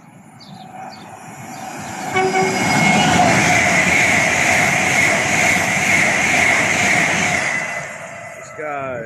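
LNER Azuma train from Glasgow Central to King's Cross passing at Biggleswade on the East Coast Main Line: a steady roar builds over two seconds, holds loud for several seconds with a faint horn-like tone, then fades.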